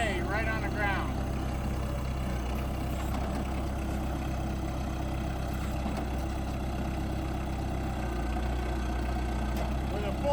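A tractor engine idles steadily while a loaded front bucket is bounced, a continuous low rumble with faint clunks, and someone talks over it.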